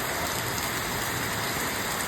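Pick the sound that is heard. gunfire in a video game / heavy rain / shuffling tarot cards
heavy rain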